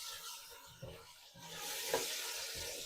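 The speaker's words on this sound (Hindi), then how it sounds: "लहसुन अदरक भी यहाँ पे थोड़ा सा फ्राई हो चुका है।" Fresh garlic and ginger frying in a pot for mutton kunna, a faint, steady sizzle with a few soft stirring scrapes, quiet and close with no talking.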